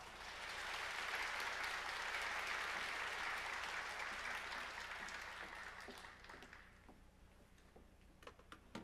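A church congregation gives a warm round of applause to welcome a school principal to speak, with steady clapping that fades after several seconds into scattered claps and quiet room tone.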